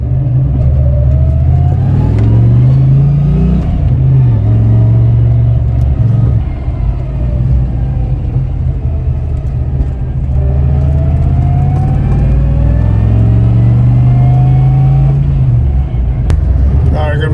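A budget turbocharged Foxbody Mustang pulls hard through several gears at close range, its engine note climbing and dropping with each shift under a loud, constant roar, with a hint of turbo whine and some talk mixed in.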